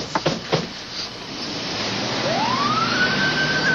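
An ambulance siren starting up as the ambulance pulls away after a man's electrocution by a dishwasher, a few brief knocks first, then the wail rises and holds steady over background rumble.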